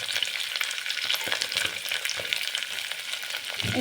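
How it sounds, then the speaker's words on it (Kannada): Onions with soaked peas frying in a pan for menthya pulao, a continuous crackling sizzle with dense spitting pops and occasional stirring scrapes, close and steady, no voices. "ಫ್ರೈ ಆಗ್ತಾ ಇದೆ. ಈರುಳ್ಳಿ ಸಾಫ್ಟ್ ಆಗಿದೆ."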